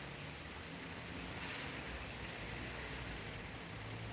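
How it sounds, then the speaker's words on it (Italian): Rain falling outdoors, a faint steady hiss of drops throughout with no other sounds. "piove"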